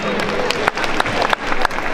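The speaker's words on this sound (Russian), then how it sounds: "Аплодисменты." Applause at a junior ballroom dance championship in Minsk, a dense, steady crowd clapping that fills the hall for two seconds, with brief dips in intensity.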